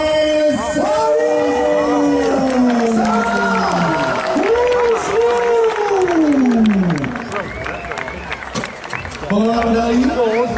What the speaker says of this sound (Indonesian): Beri tepuk tangan meriah untuk Fadi Sari.